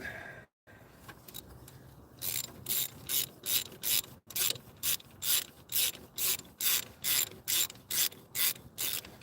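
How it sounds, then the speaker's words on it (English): Ratchet wrench tightening a 13 mm bolt during a repair, a steady run of about twelve loud, evenly spaced clicking strokes close to the mic, with no talk. "I have to do a 13 mil. This bolt, gotta tighten that."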